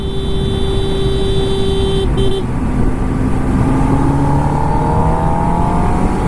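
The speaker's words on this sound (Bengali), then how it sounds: "এখন আমি আছি থার্ড গিয়ারে চলো আরও একটা গিয়ার বাড়ি দিলাম ফোর্থ গিয়ারে" A Kawasaki Ninja ZX10R sport motorcycle shifts from third up into fourth gear: a loud, close engine drone breaks briefly at the shift, then its pitch climbs steadily as it pulls away.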